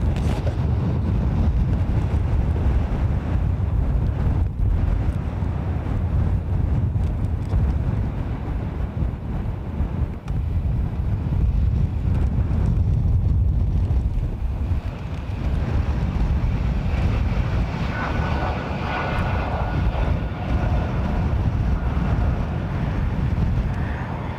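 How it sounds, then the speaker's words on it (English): Strong wind at Dublin Airport buffets the microphone in a steady, loud, low rumble that lasts throughout with slight surges, with no voices. "Wind is mental."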